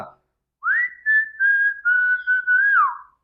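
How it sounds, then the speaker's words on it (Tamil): A whistled tune of a Kannada song from the Coolie teaser, one clear melodic line carried in several sustained phrases with short gaps, close and alone. "இதே மாதிரி கன்னடத்துலயும் இன்னொரு பாட்டா விசில் அடிச்சிருக்கிறாங்க"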